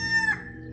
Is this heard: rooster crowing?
yes